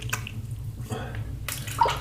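A plastic boar shaving brush is rinsed and dipped in water, giving brief sloshing and dripping splashes with short gaps between them, close and fairly quiet, with no voices.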